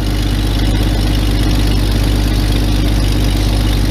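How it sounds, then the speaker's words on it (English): An old junk engine from a crate, fuel-injected, idles steadily after a cold start: a loud, even, low rumble with constant vibration, close up and alone, without talk. "For a junk engine that was laying on a crate, sure runs good."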